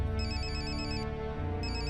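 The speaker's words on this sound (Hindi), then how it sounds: "इतनी रात गए किसका फोन हो सकता है? वो भी प्राइवेट नंबर से।" A phone ringtone at night from a private number plays loudly and alone, with a repeating electronic tone pattern that pauses briefly and resumes near the end.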